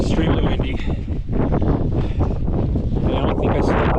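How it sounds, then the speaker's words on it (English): Loud, constant wind buffeting the microphone at a mountain campsite in early morning, a dense roaring rush with gusty surges and flapping throughout. "It is extremely windy."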